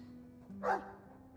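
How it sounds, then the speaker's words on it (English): A dog in the video game Dragon Age 2 gives a single short bark, fairly faint, over a low steady hum of game ambience. "He's a sweet dog, Hawk."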